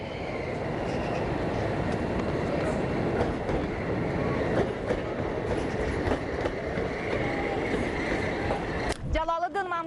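A Jaloliddin Manguberdi high-speed passenger train rumbles steadily with a dense rolling roar of wheels on rails, followed by a voice speaking near the end.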